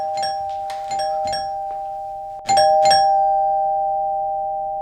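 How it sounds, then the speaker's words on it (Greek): A home doorbell chimes several times in a row, bright ringing tones with a sustained hum, followed by two louder rings that fade out slowly. "και χτυπάει το κουδούνι"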